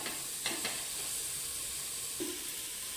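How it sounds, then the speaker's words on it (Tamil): Tomatoes sautéing and being stirred in a pan over a medium flame for coconut milk chicken biryani, a steady close sizzle with a few scraping stir knocks near the start and one near the end, no talking. "இப்போ தீயை வந்து கொஞ்சம் மீடியமாக வச்சு நல்லா கிளறுங்க"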